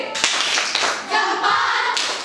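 Children in an elementary classroom clap along in a chant, sharp hand claps and taps in quick bursts with a brief pause midway, sounding close and fairly loud.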